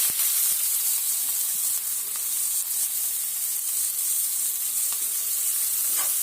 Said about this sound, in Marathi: कांदा मिरची घालून परतून घ्यायचं आहे